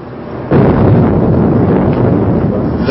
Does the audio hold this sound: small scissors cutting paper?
no